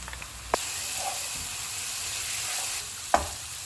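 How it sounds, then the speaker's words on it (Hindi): Ginger garlic paste fries with golden fried onions in a pot, giving a steady close hiss and sizzle, with two sharp clinks of a spoon against the pan and faint stirring scrapes. "अब इसमें हम अदरक और लहसुन का पेस्ट डाल देते हैं। इसको हम 1 मिनट तक फ्राई करेंगे।"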